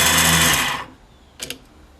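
A new PC starter motor spins up on the bench with a loud, even, high-pitched whir for under a second, then winds down. A brief faint clatter follows.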